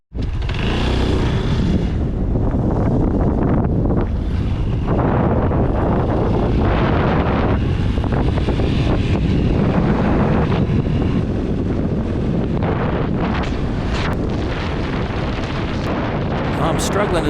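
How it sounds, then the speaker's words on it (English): Strong headwind buffeting the microphone on a Honda Postie bike (Super Cub) ride across New South Wales at around 60, a loud continuous roar of wind rumble with the small engine droning underneath, steady throughout with no talk heard. "I'm struggling to do 60 against this wind at the moment."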